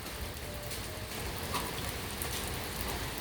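Steady rain falling outdoors, a dense continuous patter on surfaces at moderate level with no talking.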